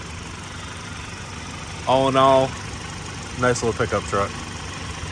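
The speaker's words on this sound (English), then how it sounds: "Engine's nice and quiet" A 2024 Hyundai Santa Cruz pickup truck's engine idles quietly and steadily in the background while someone speaks briefly over it.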